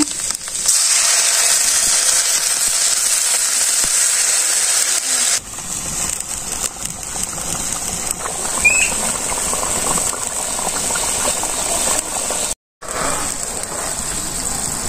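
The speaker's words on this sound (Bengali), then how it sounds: "এখন আমি জল দিয়ে দিই পরিমাণ মতো।" Water poured into a pan of fried potatoes bursts into a loud, hissing sizzle for several seconds, then settles into quieter bubbling and stirring clatter.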